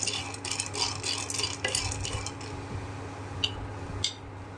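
Roasted chickpeas are stirred in a hot pan, producing a steady soft scraping and rustling with light rattles, close and fairly quiet against a low background hum.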